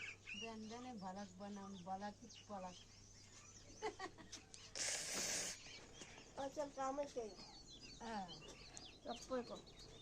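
Birds call inside a house, with clucking, chicken-like notes and short chirps heard in bursts, close by and interspersed with a sharp noisy burst midway.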